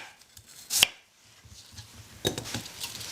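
Knife cutting through apples for an alkaline apple pie, heard as two distinct crisp slicing strikes, one early and one later, followed by light rustling handling noises, fairly close and quiet with no talking.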